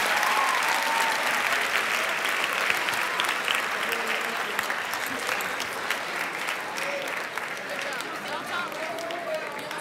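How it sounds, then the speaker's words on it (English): Audience applause after a speech at a high school technology presentation: steady, dense clapping fills the room throughout, with faint voices mixed in underneath. "Let's give Dr. Morton one final round of applause"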